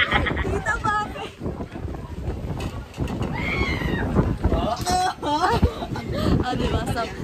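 Gusty wind buffets an outdoor microphone on a breezy day in Barili, Cebu, roaring and rumbling almost continuously under a woman's chatter.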